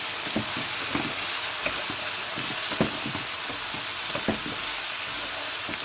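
Okra egg masala fries in a pan with a constant dense sizzle. A spoon stirs it in scattered close scrapes and soft clacks, and no one speaks.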